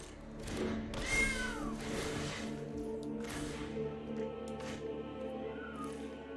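A cat meowing effect in the video game Magic: The Gathering Arena. Several drawn-out meows and a brief caterwaul sound over soft game music and chimes, moderately loud and clear, with no talking over them.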